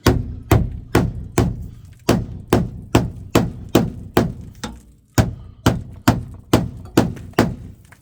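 Hammer blows striking the sheet-metal wheel arch of a VW MK3 Golf to roll and fold the lip, about sixteen heavy thudding whacks at a steady, close, loud rhythm with a short pause partway, no talking.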